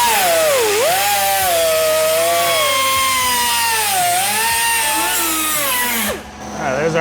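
A thick cut-off wheel grinds through rusted roof metal on a highboy truck, a loud sustained whine that dips and rises in pitch as the blade loads, before it winds down; a voice briefly speaks at the end.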